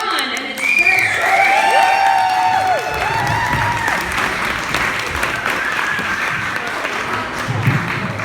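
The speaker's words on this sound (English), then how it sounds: "can I get a round of applause for Sean and his first" A crowd at a community storytelling event breaks into loud applause with cheers and whoops, swelling quickly and holding steady for several seconds, with voices rising above the clapping.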